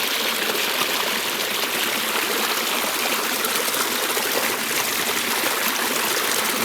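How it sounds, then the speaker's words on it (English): Loud, steady rush of a flowing stream on the Appalachian Trail where muddy shoes are rinsed, constant close water noise with no breaks or talk. "That's how I wash the mud off my shoes."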